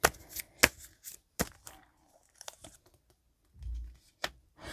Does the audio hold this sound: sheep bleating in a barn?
no